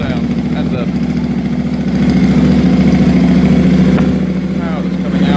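A Royal Enfield 650 Interceptor twin fitted with new silencers idles indoors with a steady, throaty low rumble that swells slightly partway through and holds loud and even throughout.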